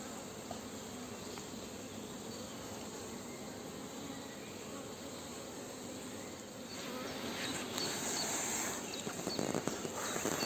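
Dense, steady buzzing of many honey bees on a hive frame close by, growing a little louder and busier toward the end.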